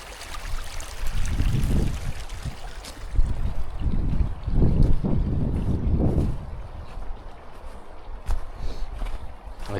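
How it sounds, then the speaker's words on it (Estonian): Water gurgling in a small stream under a little footbridge on a popular hiking trail near Poldrijärve, a steady close babble with some wind buffeting the microphone and no talk. "Vesi vuliseb."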